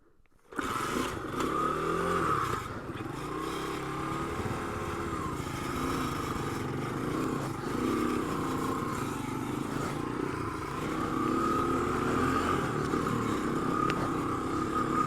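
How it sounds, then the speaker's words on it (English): A 1986 Honda ATC 200X three-wheeler engine runs steadily while being ridden, a loud, continuous buzzing drone that starts abruptly and holds with slight shifts in revs throughout. "This is my 1986 Honda ATC 200X."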